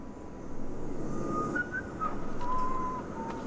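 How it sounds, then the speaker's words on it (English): Eerie, thin whistling drifts through a scene in the video game Deus Ex Mankind Divided, a few wavering tones rising and falling over a low ambient hum, moderately quiet and unaccompanied by talk. "That fucking whistling is like creepy."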